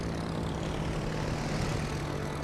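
A carrier aircraft's propeller engine drones steadily in World of Warships: Legends, a broad, even roar with a low hum underneath that holds at constant loudness throughout.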